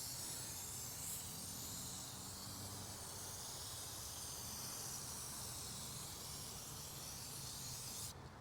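A steady, hissing spray of cleaner aimed up under a truck camper while the person stands at ground level. The hiss runs continuously and evenly for several seconds and sounds close, with no talking.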